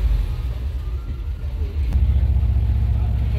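A Kombi motorhome van pulls away from a mechanic's workshop with a steady low engine rumble that thickens slightly as it gathers speed, heard loud and close from inside the vehicle.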